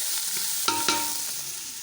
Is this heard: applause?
no